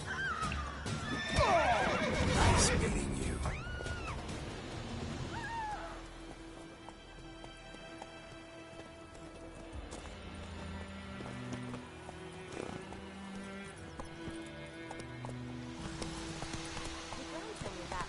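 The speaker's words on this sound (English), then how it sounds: "Run, Roach." A horse in a video game neighs and whinnies loudly, then its hooves clip-clop in a steady running rhythm. A voice speaks over the action, and game music and effects fill the background.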